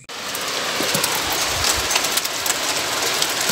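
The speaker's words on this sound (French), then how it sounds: "On a de la grêle qui tombe." Hail pours down during a thunderstorm, a dense continuous hiss of pellets striking surfaces close by, steady and loud throughout.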